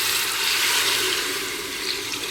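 Water pours steadily into a pan for a soya chunks pulao, a continuous close splashing rush with no talk.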